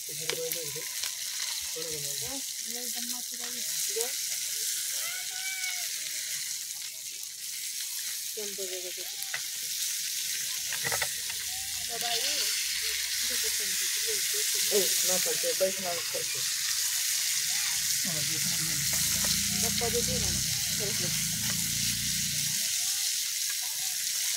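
Food fries in a pan with a steady, fairly loud sizzling hiss, while voices talk on and off over the frying throughout.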